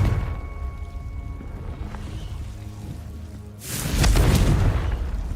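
A Confringo fire spell in Hogwarts Legacy bursts into a loud, rumbling explosion after a quieter stretch of low ambience and faint tones. The blast hits suddenly and holds as a heavy, roaring boom.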